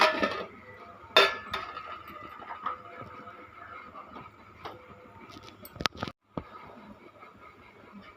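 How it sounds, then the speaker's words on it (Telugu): A lid is lifted and a simmering cucumber, egg and drumstick curry is stirred in a pot: metallic clinks of lid and spoon over a low, steady bubbling, close by. "మధ్య మధ్యలో ఇట్లా మూత తీసి తిప్పుతూ ఉండాలి."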